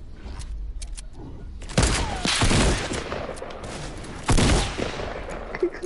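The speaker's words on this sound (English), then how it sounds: "Stop shooting!" Rapid video game gunfire crackles in dense bursts, with two loud, sharp volleys standing out near and close amid continuous shooting, no talk over it.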